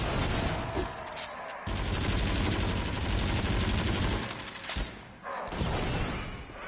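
Rapid gunfire from the Rush of Blood VR roller coaster shooter, loud and sustained, with dense bursts that drop briefly near the middle and again toward the end.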